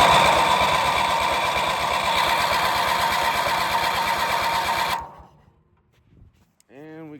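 A vehicle engine, jump-started after a new fuel pump was fitted, fires up and runs with a loud, steady, rapid chugging rumble for about five seconds, then cuts out abruptly, leaving near silence before a short voice.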